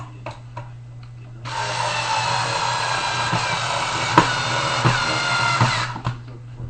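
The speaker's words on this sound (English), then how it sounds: "I'm going to put the screw in" Screw being driven into an XSV Vlocity paintball loader with a small electric driver, a steady close whirring buzz lasting several seconds, framed by light clicks and taps of handling before and after.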